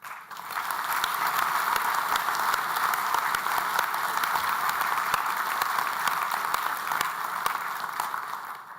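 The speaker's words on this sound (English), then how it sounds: "I love the way you applaud yourselves." A graduation ceremony audience applauds: sustained, dense clapping from a large crowd in a hall, steady throughout and fading slightly at the end.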